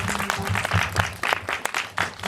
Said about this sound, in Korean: 박수를 한번 부탁드리겠습니다